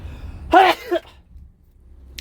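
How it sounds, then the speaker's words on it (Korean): A single sneeze bursts out close to the microphone and is over within about half a second, followed by near silence and faint background noise. "재채기 좀"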